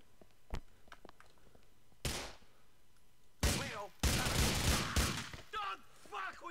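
Gunfire in GTA IV, including shotgun blasts: sharp single shots at first, then heavier bursts and a dense volley, with rapid cracks fading at the end; sparse, quiet sounds fill the gaps between shots.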